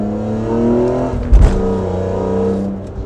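A BMW E46 M3 with a 343 hp engine and Borla exhaust accelerates, its steady engine tone breaking briefly at a gear shift before pulling on again, loud and close with no talking.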